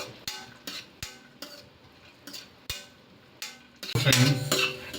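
Cashews roasting in ghee in a pan over a low flame, heard as repeated sharp spoon stirs and scrapes against the pan, ending in a louder bubbling sizzle.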